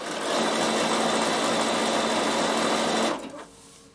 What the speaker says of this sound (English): I'm triple stitching down and top stitching it at the same time